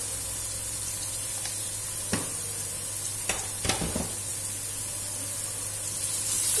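Spice masala made with red chili and turmeric fries in a pan with a steady, close sizzle and hiss. A few light clinks from stirring cut through it.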